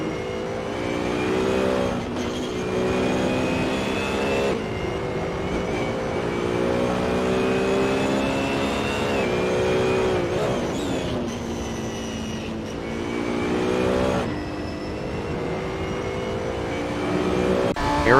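Racing cars in Assetto Corsa, including a BMW Z4, drone with steady engine tones that rise and fall through gear shifts, close and continuous with no talking.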